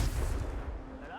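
A Confringo blasting spell explodes in the Hogwarts Legacy video game, a short heavy boom with a deep rumbling low end that quickly decays into a fading tail.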